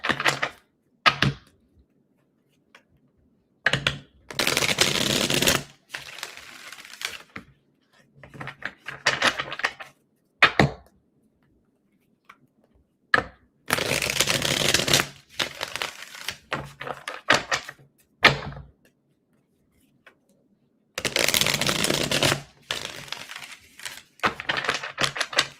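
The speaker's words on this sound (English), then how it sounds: "Let me get a good shuffle here." Tarot cards being shuffled in repeated bursts of papery riffling and snapping, close and fairly loud, separated by short pauses and quiet gaps.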